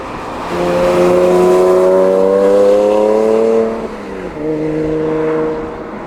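A Porsche 997.2 Carrera 2 S flat-six engine is heard from on board while driving, giving a smooth, steady tone that climbs through the revs, then drops briefly at a gear change before it pulls again.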